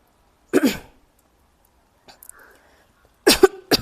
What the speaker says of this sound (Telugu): ఎక్కువ మాట్లాడితే దగ్గు వచ్చేస్తుంది ఇదో ప్రాబ్లం నాకు